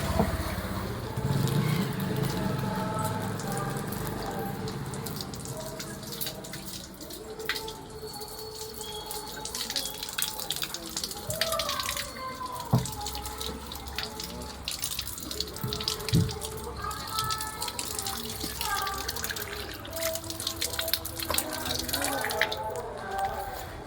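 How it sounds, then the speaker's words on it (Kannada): Water runs from a tap as feet are washed at a Sai Baba temple, a continuous splashing flow with drips and clatter, while people talk nearby throughout. "ಕಾಲು ತೊಳಿಬೇಕು ಇವಾಗ ಮೊದಲು"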